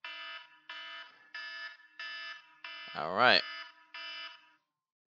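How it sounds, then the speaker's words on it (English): Electronic timer alarm going off in repeated evenly spaced beeping bursts, about seven pulses each roughly half a second long, loud and close, with a brief spoken word cutting in near the end. "Because here's the timer."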